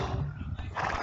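A horse of a cavalry unit in the video game Age of Empires neighs and whinnies over the game's busy battle noise, close and fairly loud, with a voice speaking over it.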